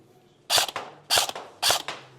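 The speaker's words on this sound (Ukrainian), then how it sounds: "Просто робимо декілька пострілів" Three sharp test shots from an airsoft M4 CM507 rifle, evenly spaced about half a second apart, each a loud crisp snap with a short mechanical rattle trailing off, close up and alone.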